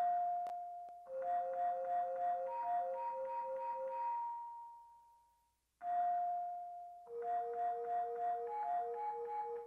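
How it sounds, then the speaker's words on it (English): A synth pluck runs in an arpeggiated pattern with a bouncy, repeating rhythm of bell-like tones over a sustained note, in two phrases separated by a brief fade, quiet and clean with no voices. "I added a just another pluck, but arpeggiated it, so it gives it a cool rhythm and a bounce."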